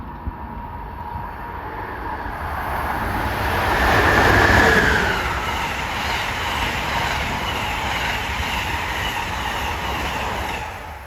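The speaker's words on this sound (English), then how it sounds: "Good-sized train." Amtrak train 127, running New York to Washington, passes trackside at Levittown with a sustained roaring rush, wheel noise and a brief squeal rising to a peak midway, loud and close throughout.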